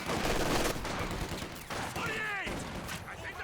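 Machine gun fire in the real-time strategy game Company of Heroes 2, rattling bursts mixed with other battle noise and a whistling, descending tone, heard under a commentator's voice.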